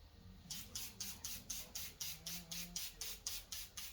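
Liquid is sprayed onto a rear taillight part of a second-generation Dodge Challenger in a series of about fourteen short, evenly spaced hissing bursts from a hand sprayer, close and clear.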